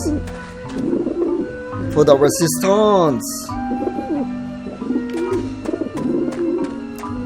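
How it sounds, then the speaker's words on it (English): Pigeons coo on a rooftop in the video game Grim Fandango, a soft repeated burbling heard under a voice talking over the scene. "we can't get those eggs because those birds are going to attack us as soon as we get close"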